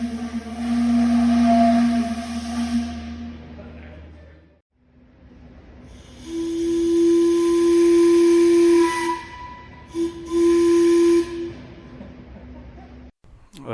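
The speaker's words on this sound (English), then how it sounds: "here's some examples of me messing around with that with shop air and an air nozzle" Whistle parts 3D printed and fitted in PVC pipe, blown with shop air through an air nozzle: sustained loud steady whistle tones in two main blasts with a brief break, a hiss of air underneath, and a short pause between.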